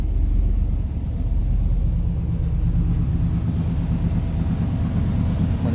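A 1987 Chevrolet Silverado C10 pickup engine idling indoors, a steady deep, loud rumble that runs without a break and with no voices.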